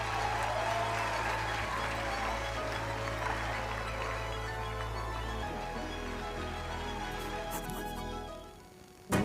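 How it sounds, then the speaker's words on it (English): A crowd claps together at a Belize morning television broadcast, a broad even wash of clapping that holds steady before fading near the end, with a low hum beneath it. "Please give yourself a round of applause."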